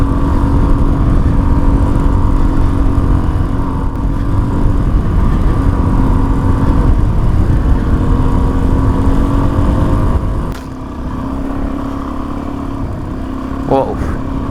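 A Suzuki DRZ400 motorcycle engine drones steadily while riding over deep, coarse gravel, with broadband crunching rumble throughout and a slight drop in level near the end.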